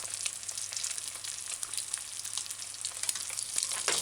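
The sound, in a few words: egg frying in oil in non-stick pot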